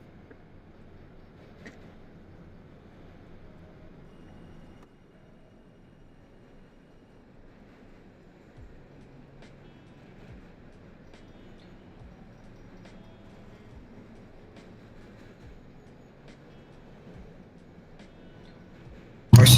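A subway train on the 5 line pulls out of Crown Heights in an OpenBVE simulation, heard as a faint, low, continuous rumble with a sudden loud burst at the very end.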